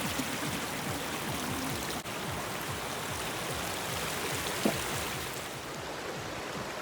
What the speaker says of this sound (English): There's something so soothing about flowing water, especially when it's flowing in all kinds of directions.